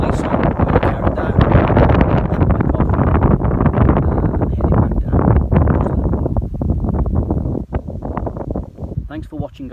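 Chilly wind on a mountain buffets the microphone in loud, continuous gusts and rumbles, with a voice talking at times over the roar.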